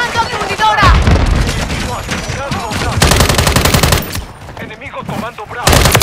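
Loud Call of Duty MW3 firefight, rapid machine-gun bursts and heavy shots in fast rhythmic volleys with booms, continuing over several seconds, with in-game voices calling out over the shooting.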